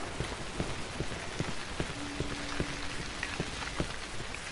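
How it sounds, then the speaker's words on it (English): Rain falls continuously in the horror game Cry of Fear, a soft steady patter with scattered sharper drips and a faint tonal hum in the background. "Why is it raining the whole time anyways, and a bit further away it was snowing instead?"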